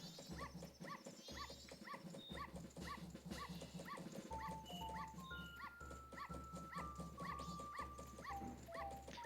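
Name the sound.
dog yipping in video game Zelda Majora's Mask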